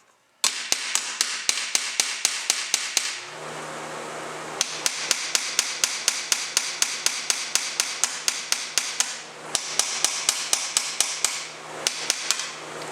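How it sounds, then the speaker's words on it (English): A hammer taps the welds of a car seat recline mechanism on a 2009 Pontiac G6, giving a long run of sharp, evenly spaced metallic strikes up close over a steady background hum, with a couple of short pauses. "I just went by here and tapping on them welds like that right there."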